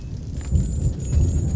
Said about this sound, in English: And it's like thundering outside.